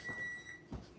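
Oven timer beeping as taco spaghetti finishes baking in a home kitchen, a steady high electronic tone held for about half a second, then a soft knock or clatter, faint and alone.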